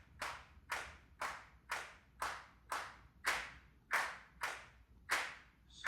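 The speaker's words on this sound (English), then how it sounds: "And all of the claps are too loud." A steady run of about ten sharp programmed drum-kit claps from GarageBand on iOS, evenly spaced at a mid tempo, loud and bright with quick decays and no voices.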